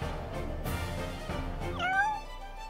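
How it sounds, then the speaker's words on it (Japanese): A cat in the Princess Connect Re:Dive game gives a single clear meow with a rising, bending pitch near the end, set over steady game background music and effects. "なんだこの猫は。"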